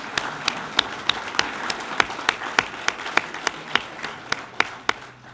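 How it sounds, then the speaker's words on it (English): Volunteers receive a round of applause at a Ronald McDonald House charity gala: crowd clapping fills the room, with a string of sharp, evenly spaced louder claps standing out close by over the steady patter. "Let's give them a round of applause right now."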